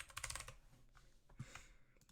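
Quick bursts of keyboard typing, a rapid flurry of clicks followed by a few scattered keystrokes, soft and close.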